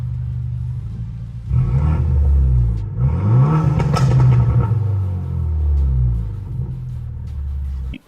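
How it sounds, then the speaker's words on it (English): A 2023 BMW M440i xDrive with a burble tune revving in neutral, a deep close rumble that swells through two throttle blips rising and falling in pitch before settling back to idle, no talking. "The burble tune. So let's put it in neutral."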